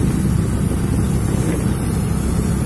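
A 50cc two-stroke mini trail motorcycle being ridden, a steady low engine drone mixed with heavy wind buffeting, continuous and close with no talking.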